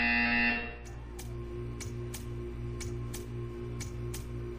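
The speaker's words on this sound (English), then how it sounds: "You will hear a buzzer." Buzzer in the video game Portal 2 sounds as a series of about eight short, evenly spaced electronic pulses over a steady low hum, following a brief louder tone at the start.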